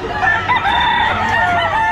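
Several fighting roosters crow loudly and overlap at a pet market in Bocaue, their drawn-out calls layered in a busy, close chorus with no talking.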